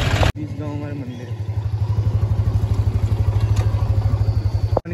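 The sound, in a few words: tractor approaching on a village road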